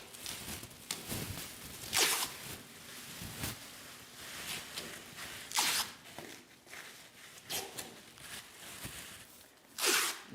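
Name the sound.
plastic wrap being put over a steering wheel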